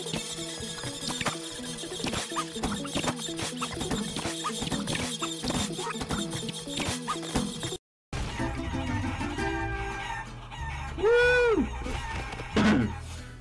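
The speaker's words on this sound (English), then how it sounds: "his home's overrun by chickens, and he wants you to put them in the pen" Chickens cluck and squawk in the video game Guacamelee, where a home is overrun by fowl, with busy game sounds and music around them and a few louder squawks near the end.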